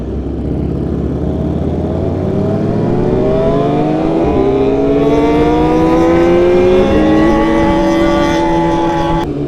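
Superbikes roar through the Dallas tunnels at night, engines loud and close, climbing through the revs in repeated rising sweeps broken by quick gear shifts, with no talking.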